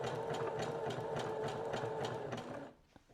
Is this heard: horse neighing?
no